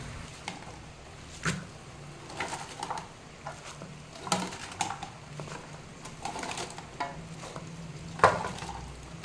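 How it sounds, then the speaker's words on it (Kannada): Chopped Malabar spinach (basale) goes into a pan to cook, giving scattered soft clinks, stirring scrapes and light patter spread irregularly over several seconds, fairly quiet with no talking. "ಈಗ ಇದನ್ನು ಬೇಯಿಸ್ಲಿಕ್ಕೆ ಇಡ್ತೇನೆ"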